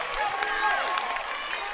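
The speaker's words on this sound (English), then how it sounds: "Crowd is getting loud." A loud crowd cheers steadily through a tense high school basketball game near the end as a free throw is taken, with a whistle and an announcer's voice over the noise.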